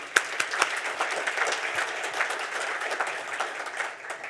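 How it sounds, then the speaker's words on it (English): An audience at a public policy forum awards session gives the winners a round of applause, a steady crowd of clapping with a few sharper nearby claps, slowly tapering. "how about another round of applause for our winners?"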